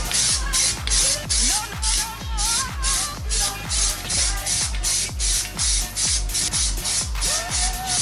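Aerosol can of Plasti Dip Black Metalizer spraying onto a car wheel in short repeated bursts, each a loud close hiss, about a dozen passes with brief pauses and faint rattles between.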